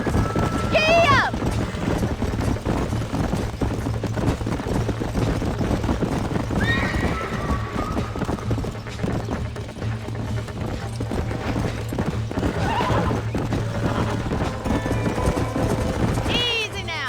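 Horses in the Red Dead Redemption video game gallop with rapid clip-clop hoofbeats and let out several whinnies near the start, middle and end, under steady background ambience with voices talking.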